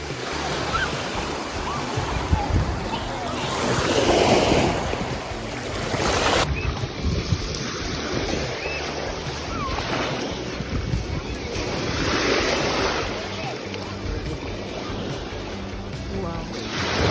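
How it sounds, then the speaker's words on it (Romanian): Rough sea waves surging and breaking along a coast in Greece, a steady wash of surf with swells rising and falling, wind buffeting the microphone throughout. "Valurile sunt destul de mari astăzi, sincer."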